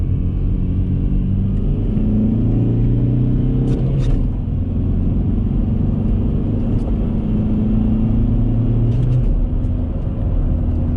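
A steady, loud diesel engine drone with deep low rumble fills the whole recording, a 2003 Volkswagen Jetta TDI wagon with 5-speed manual laboring continuously uphill, heard from inside the cabin with windows closed.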